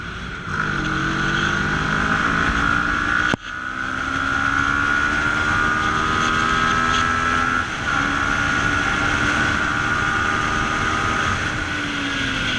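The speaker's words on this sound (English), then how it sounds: "after 160 kilometers per hour is when the wind blast is too much" A Kawasaki ER6N motorcycle at high speed, steady engine drone with pitch shifts as gears change, buried under constant loud wind blast roaring across the rider's microphone.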